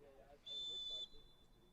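A referee's whistle at a UPSL soccer match gives one sharp, shrill blast of about half a second, clear above crowd murmur and commentary.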